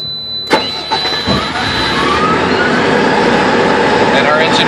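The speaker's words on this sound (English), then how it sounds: "Engine fires up and runs." A Kohler generator engine cranks with a few sharp bursts, catches, and settles into a loud, steady mid-pitched running drone with a faint high whine above it.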